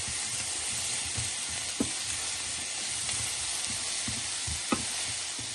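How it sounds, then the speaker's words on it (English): Dal simmering on moderate heat while vegetables cook in a pan, a steady close hiss and sizzle throughout with a few soft utensil knocks, no talking. "So that's simmering away nicely, and the vegetables are getting done."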